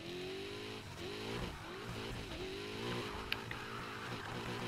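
A car in Need for Speed Heat pulls away, its engine droning steadily with rising and falling revs and a brief sharp click partway through, no talking.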